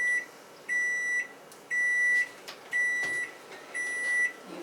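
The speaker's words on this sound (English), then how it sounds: "So when the timer goes off" An oven timer signals the end of baking biscotti with five evenly spaced, piercing electronic beeps, each about half a second long, clear and close in a quiet kitchen.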